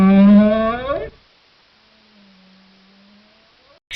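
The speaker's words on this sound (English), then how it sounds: "camel," A camel lets out one deep, drawn-out grunting bellow for about a second, close and loud, followed by near silence and a faint low hum.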